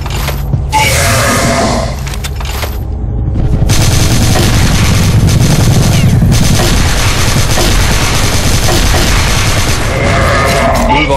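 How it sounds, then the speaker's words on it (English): Gunfire and a flash grenade blast in the CrossFire shooter, a dense, loud barrage of rapid shots that swells after a brief lull and runs nearly continuously to the end. "Flash grenade."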